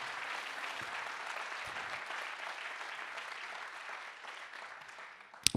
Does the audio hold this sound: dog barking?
no